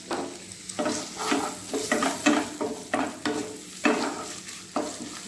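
Salted chicken pieces sizzle in a pan with hot fat, a close crackling hiss that swells with a series of irregular stirring scrapes and pushes, no one speaking.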